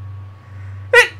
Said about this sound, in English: I do get the odd sneeze every now and then